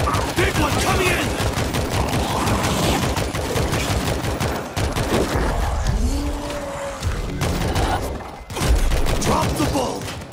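An auto turret in the zombie shooter World War Z fires a dense, continuous rattle of rapid gunshots, loud and close, layered over other chaotic game noise for the whole stretch.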